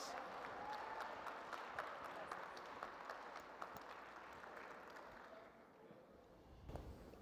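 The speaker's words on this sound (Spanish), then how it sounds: "os Fernández, presidenta ejecutiva del IFIE, con la ovación de todos ustedes, si son tan amables." Audience ovation for the moderator of a panel at the CLASE 2014 intergenerational debate, a broad steady wash of clapping from a large hall that holds fairly even and thins slightly toward the end.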